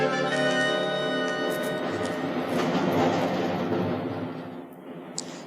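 A train runs on rails in a 1965 radio comedy drama, a steady loud rumble with rhythmic clickety-clack and tonal hum filling the whole stretch, easing slightly toward the end.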